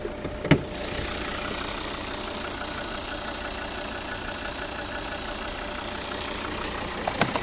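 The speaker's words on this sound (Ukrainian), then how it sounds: "Робота двигуна." A Volvo car engine idles steadily with a low, even rumble, broken by a sharp click near the start and another near the end.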